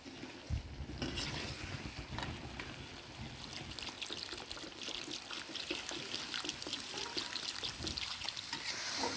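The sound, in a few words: water poured into spiced cooking mixture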